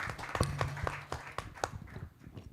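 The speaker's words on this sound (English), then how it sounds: "Please, a round of applause for her." An audience at an International Youth Day 2024 event gives a short round of applause, quiet and somewhat distant, with scattered individual claps standing out.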